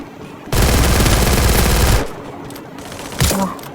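Short-range gun firing in the Free Fire mobile game: a loud sustained automatic burst lasting about a second and a half, then a quieter pause and a second brief shot.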